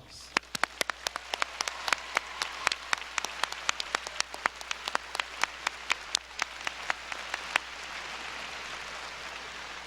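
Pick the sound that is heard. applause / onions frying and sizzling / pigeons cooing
applause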